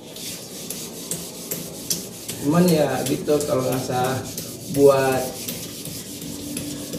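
A machete blade is worked over 240-grit sandpaper in steady, close rasping strokes, rhythmic rubbing that rises in bursts, with someone talking over parts of it.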